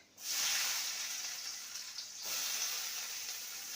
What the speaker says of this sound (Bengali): রসুনটা ভাজা হয়ে গেছে এবার দিয়ে দেবো কোচানো পেঁয়াজ